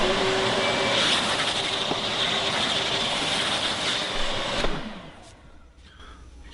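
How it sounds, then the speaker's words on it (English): A vacuum cleaner gives a loud, steady motor whine for several seconds, then winds down and cuts off, leaving a quieter room with a few small knocks. "We'll vacuum this up."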